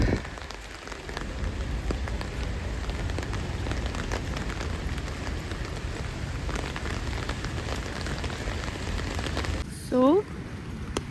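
Steady rain falling outside a housing society, a dense even patter on surfaces continuing throughout, with a brief faint chirp near the end.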